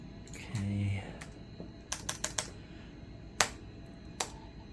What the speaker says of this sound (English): Keyboard seems to work fine, by the way.